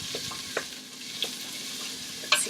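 Garlic, shallots and asparagus sautéing in a pan with a soft sizzle, broken by a few light utensil taps and clicks, with no talking.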